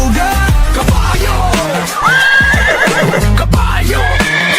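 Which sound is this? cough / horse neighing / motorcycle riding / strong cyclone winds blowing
horse neighing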